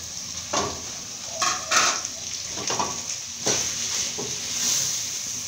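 Beef fry being stirred in a pan after dania is added: a steady sizzle with repeated scraping stirs and light clinks of the utensil against the pan, moderately close.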